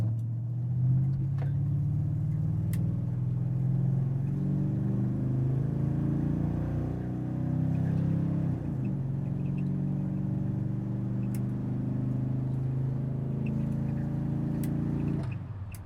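A car fitted with a 1960s transmission and added electronic control launches and accelerates hard, its loud, steady engine roar sustained for about fifteen seconds before easing off, with no talking.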